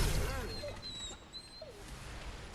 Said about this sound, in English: I hate when they add realistic dog dying sounds into a game.